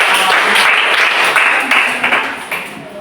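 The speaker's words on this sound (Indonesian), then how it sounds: "Tepuk tangan untuk kelompok." Classroom applause for a student group after it recites a pantun, a dense, steady wash of clapping that stays loud, then thins slightly toward the end.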